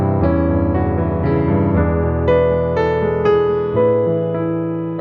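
Solo piano plays the theme of Brahms' Intermezzo Op. 118 No. 2, a close, full-toned phrase of sustained chords and a singing melody line with no voices.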